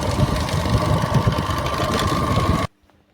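A motorbike engine runs at a steady idle with a constant hum and faint rattle, close by and fairly loud, then cuts off abruptly near the end, leaving near silence.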